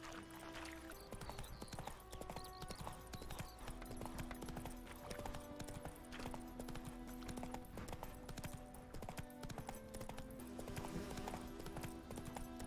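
Horse hooves clip-clop in a steady rhythmic trot through The Witcher 3 video game, mixed with soft game music and ambient layers, continuing alone across the whole stretch.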